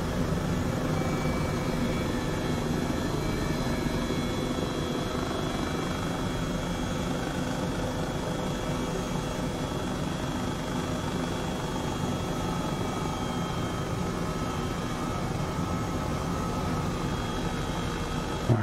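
A helicopter in Microsoft Flight Simulator 2020 flies toward Iceland's Fagradalsfjall volcano, with a constant loud rotor and engine drone that holds steady, alone and without talking.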